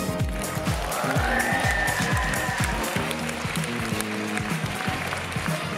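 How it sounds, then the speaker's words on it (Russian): An audience at a contest claps for the third contestant, producing dense, continuous applause with overlapping crowd noise and what sounds like voices mixed in. "аплодисменты участницы под номером 3"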